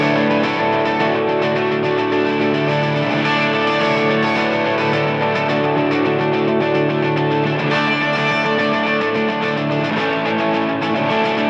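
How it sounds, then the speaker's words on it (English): Six layered electric guitars, all with the same mid-range tone, play together as a dense wall of distorted chords with some echo. The sound stays loud and constant throughout, with no gaps. "There are 6 guitars on this song, and they all have that same mid-rangey sound to them."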